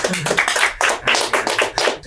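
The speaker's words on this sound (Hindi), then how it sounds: "गाइस एक बार जोरदार तालियां चाहिए, कम ऑन" A crowd gives loud, dense applause at an interview set for a Bollywood film, the clapping filling the room steadily throughout.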